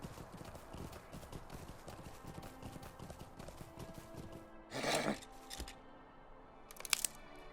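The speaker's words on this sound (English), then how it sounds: "We get on my horse, it might be a little bit faster." A horse galloping in the online game Lord of the Rings Online, rhythmic clip-clop hoofbeats throughout with a couple of louder bursts, including a whinny-like sound.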